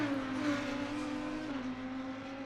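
GT race cars in Assetto Corsa Competizione at Imola roaring past, a sustained loud engine drone with a gradually falling pitch as they pass, no voices.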